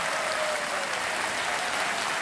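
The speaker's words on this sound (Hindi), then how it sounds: "तालियां बजते रहे देवियों सज्जनों।" Studio audience on the KBC game show claps in a dense, steady burst of applause, loud and sustained throughout with no talking over it.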